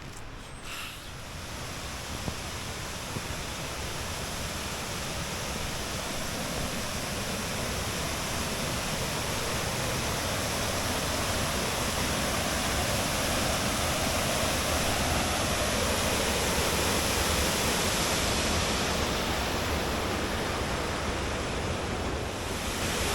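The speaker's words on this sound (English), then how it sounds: "You've got to admit, there's not much that beats a waterfall." A waterfall near High Force on a boggy countryside walk, heard as a steady, loud broadband roar of rushing water that continues unbroken throughout, with a little wind and no talking.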